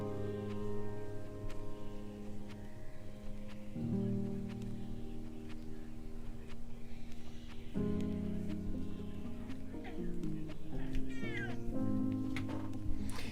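A cat gives drawn-out meows that rise into caterwaul-like yowls, loud and close, running continuously for about thirteen seconds with shifting pitch and no clear speech over them.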